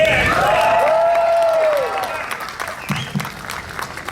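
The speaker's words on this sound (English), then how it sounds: "Let's give him a warm round of applause." An audience applauding at a convention panel with scattered cheers and a whoop, loud at first, then thinning out as a voice starts speaking.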